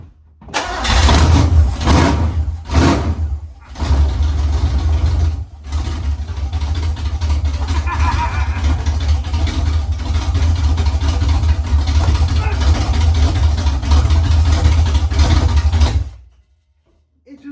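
A junker daily-driver car with a V8 engine and a swapped-in 4-speed cranks with several quick starter bursts, fires up and settles into a loud, steady idle that rumbles for over ten seconds before cutting off.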